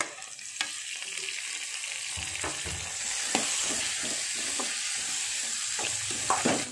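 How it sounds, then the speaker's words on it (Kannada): Tomatoes go into a pan for a greens stir-fry and sizzle steadily, close by, with a few scraping stirs of a spoon and no voices. "ಟೊಮೆಟೊ ಹಾಕ್ಕೊಳ್ತಾ ಇದ್ದೀನಿ."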